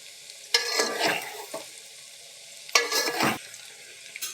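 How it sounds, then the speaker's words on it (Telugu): Egg pieces fry in hot oil until golden, the pan giving two loud bursts of stirring and sizzling separated by a quieter bubbling lull, with one brief sizzle between them. "ఎగ్ పచ్చడి ఇట్లా గోల్డ్ కలర్ వచ్చేటట్టుగా వేపుకోవాలి"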